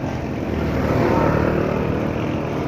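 Motorcycles labor up a steep uphill road on a busy long-weekend ride, a loud, continuous engine drone holding steady without pause.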